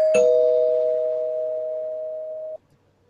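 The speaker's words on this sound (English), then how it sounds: "I've already rang the spoiler bell" A single bell strike used as a spoiler warning, a sharp attack followed by a long steady pure ringing tone that sustains evenly before cutting off abruptly, loud and close with no voices.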